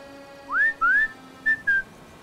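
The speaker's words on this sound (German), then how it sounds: "Du hältst Q gedrückt und wählst die Trillerpfeife auf." Four short rising whistle blasts from a trilling whistle in Sniper Elite 5, spaced in two pairs over a faint steady game ambience.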